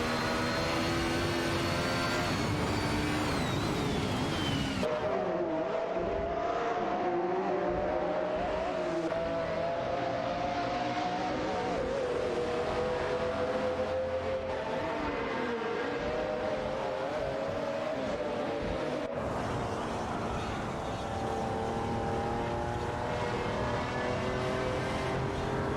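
Race car engines in an AI-driven racing video game, a loud continuous whine with rising and falling pitch as cars accelerate and shift, steady throughout with no voices.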